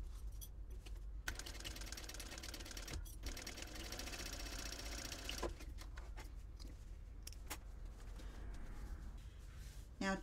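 A sewing machine top stitching a seam on a fabric packing cube, running in a steady fast rattling whir with a few short stops and restarts, fairly close and continuous.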